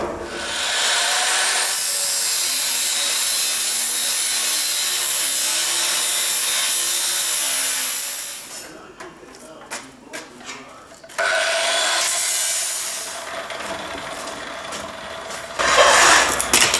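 Steel sheet for a narrowboat skin tank is cut with a power tool, a loud, sustained harsh grinding whine near the mic that stops, gives way to clatter and handling, then resumes in bursts.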